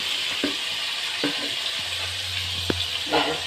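Koi fish frying in hot oil gives a steady close sizzle with a few scraping stirs and light clatter, no talk.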